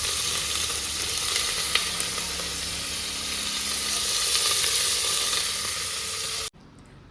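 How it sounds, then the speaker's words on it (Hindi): Onion and green chili fry in hot oil for a tadka with a bright, continuous sizzle and a few faint stirring ticks. The sizzle stops abruptly near the end, leaving near silence. "तो अब मैं पहले प्याज और हरी मिर्च को भून लूँगी"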